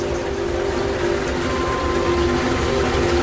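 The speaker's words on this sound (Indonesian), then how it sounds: "Suara kereta datang dan pergi" A train rumbles steadily at a fairly loud level, with a continuous low drone and hiss.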